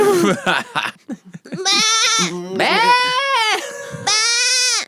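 People do goat impressions, voices imitating bleating with several loud, wavering, nasal bleats in quick succession, close up, with a few short vocal bursts between them.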